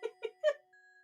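A cat lets out three quick, short meows in a row, faint and close, followed by a thin, steady high tone fading out.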